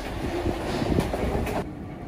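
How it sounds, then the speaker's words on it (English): A Paris Metro train rumbles along with steady wheel noise and rattling carriages, heard from inside, the roar dropping slightly near the end. "this is the metro, and we're taking the metro from here"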